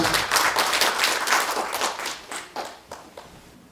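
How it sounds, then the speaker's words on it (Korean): An audience claps to welcome a speaker at a lecture on where the Korea–US treaty was signed, a dense patter of hands that thins out and trails off into scattered claps toward the end. "다시 한번 이 김성수 선생님 박수로 맞이해 주시기 바랍니다."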